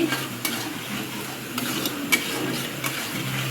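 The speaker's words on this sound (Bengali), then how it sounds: "মশলাটা ভালো করে ভেজে দিচ্ছি" Steady sizzling from a frying pan with occasional sharp clicks and scrapes of a utensil stirring, close up and without voices.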